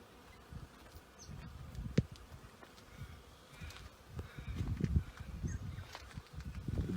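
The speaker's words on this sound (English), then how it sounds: "The bees are hard at work making cactus honey." Bees buzz steadily around cactus flowers in early morning, a close, continuous insect hum with a few louder passes near the end.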